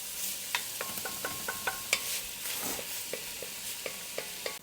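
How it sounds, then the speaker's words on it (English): Minced garlic and onions sauteing in olive oil over medium-low heat give a steady close sizzle, with a string of sharp utensil clicks and scrapes against the pan as they are stirred. "Our minced up garlic and onions now are just sauteing with this olive oil."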